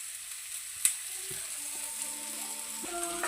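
Dal fry with coriander leaves is stirred in a pan. A faint, steady sizzle continues beneath one sharp utensil tap and a few soft scrapes and clinks.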